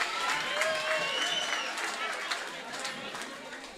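Audience applause at a women's forum celebration, a dense sustained round of clapping mixed with chatter and voices, fairly close and steady throughout.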